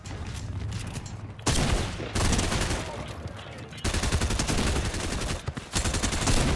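Rapid bursts of gunfire in the Fortnite Chapter 2 Remix battle royale game, loud and dense, with sustained automatic fire and brief gaps over about six seconds, with speech mixed in.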